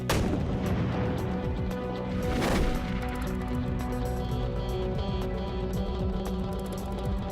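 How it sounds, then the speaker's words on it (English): A cannon fires with loud booming blasts, a strong report near the start and another around the middle, followed by rumbling and crackling that stay dense and loud throughout. "By thinking of a cannon and the trajectory of the ball it shoots"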